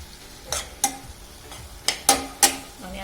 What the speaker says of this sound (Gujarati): હવે આપણે આને સારી રીતે મિક્સ કરી લઈશું, અને ગેસની ફ્લેમને સ્લો ટુ મીડિયમ પર કરી લઈશું